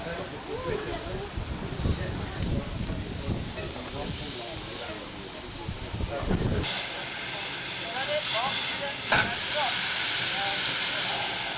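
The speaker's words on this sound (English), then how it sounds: "a Great Western Railway City class locomotive, like this one, the City of Truro" GWR City class steam locomotive City of Truro on a heritage railway, with a steady hiss of steam that grows stronger and louder partway through, while someone talks over the first half.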